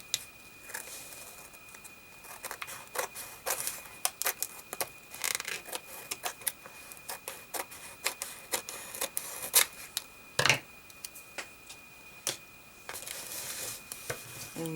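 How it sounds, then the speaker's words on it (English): Scissors trim the edges of a paper journal page, giving soft, scattered snips and paper rustles close by, with a louder crisp cut near the middle. "I'm gonna cut the edges, just pop it on and fold it down, and then I'll go in and trim"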